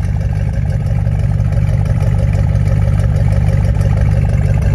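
A dusty 1969 Chevelle SS with little performance idles close by, its engine a loud, steady, even rumble throughout with no talk.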